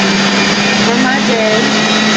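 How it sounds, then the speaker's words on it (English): A juicer whirs steadily while juicing celery, a loud continuous motorized drone with a constant hum and faint whine riding on top for the whole stretch. "let me juice this celery"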